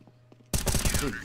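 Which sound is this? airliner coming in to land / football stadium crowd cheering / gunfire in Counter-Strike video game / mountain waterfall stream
gunfire in Counter-Strike video game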